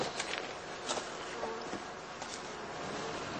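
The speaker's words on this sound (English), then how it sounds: "Now it is time for the cleansing flight, during which the bees rid themselves of the excreta from their winter feed." Honeybees on their spring cleansing flight from a heather skep apiary buzz in a dense, continuous swarm drone, with individual bees flying close past now and then.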